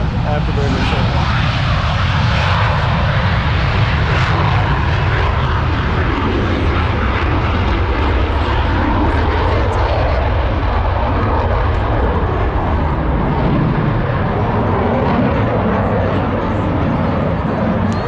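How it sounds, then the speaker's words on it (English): F/A-18 Super Hornet jet flying with afterburner at an air show, a loud, continuous roar that swells and fades slightly throughout. "F-18 Stewart Air Show, Afterburner Show."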